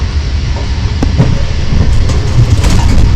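A low rumbling electric tram starts to roll along at an herb garden, its motor and wheel noise holding steady and growing slightly louder, with faint rattles and clanks.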